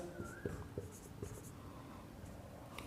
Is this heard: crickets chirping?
no